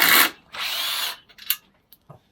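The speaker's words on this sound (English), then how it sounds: "I just want to loosen up these motors. There's just 4 screws, 2 here and 2 underneath." Power drill loosening motor screws, two loud close whirring bursts followed by brief rattles and clicks as the tool settles.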